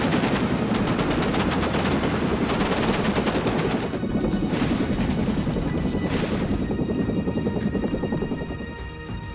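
Helicopter gunships firing full automatic, a dense, continuous roar of rapid machine-gun bursts and heavy gunfire, loud and sustained, with a rotor-like drone beneath and no talking.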